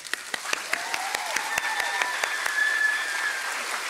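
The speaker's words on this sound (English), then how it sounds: "So may we give them a round of applause." An audience applauds educators at an education awards event, with a few separate claps building into steady clapping, along with a faint tonal ringing.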